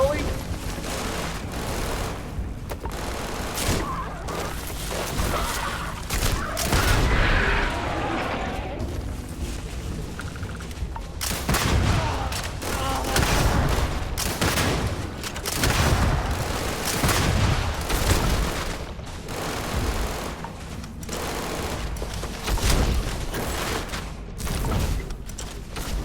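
Sustained heavy gunfire in the Starfield video game, with loud repeated shots and booming blasts over game music and effects. Someone talks throughout.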